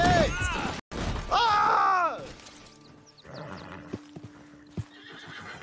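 A horse in Red Dead Redemption 2 Online whinnies loudly near the start, followed by a few scattered clip-clop hoof thuds and quieter game sounds later.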